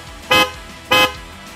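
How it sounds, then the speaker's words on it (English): An aftermarket Vaishnu horn fitted to a running motorbike sounds two loud, short, evenly spaced blasts, with idle engine noise faint between them. "once we have started the bike and we blow the horn, you can see that the horns are working just fine"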